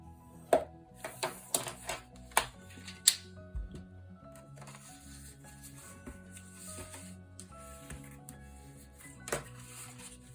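Paper is scored for a folio on a scoring board, a series of sharp clicks and taps with soft scraping between them, fairly close and moderately loud, with no talking.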